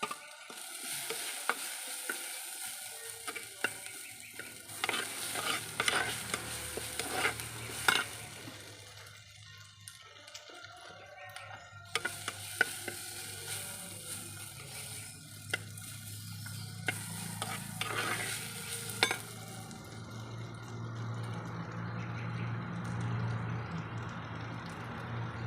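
Tomatoes fry in a pan for a vegetable kurma while a spoon stirs them, giving a steady soft sizzle with repeated scraping strokes in bursts, close and moderately loud, with no voices.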